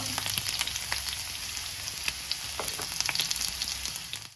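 Finely chopped onions hit hot oil for an egg biryani, giving a steady, close, bright sizzle with small crackling pops throughout and no voices.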